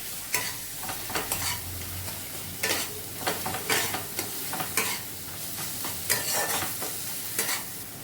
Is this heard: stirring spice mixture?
yes